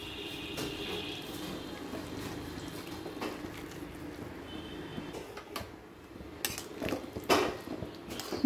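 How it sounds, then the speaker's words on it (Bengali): Hot water heated on an induction cooktop is poured into chicken in a cooking pot, a faint liquid splash mixed with clinks of a pot and utensils, close and quiet with no talking. "এই গরম জলটা এবারে আমি মাংসে দিয়ে দেবো।"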